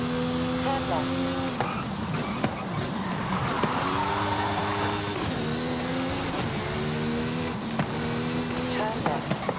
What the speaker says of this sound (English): Sounds like Hamilton's Grand Prix car